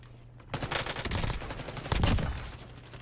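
A gun in a video game fires two quick bursts of gunfire, one after a brief quiet start and a louder one shortly after, close and punchy.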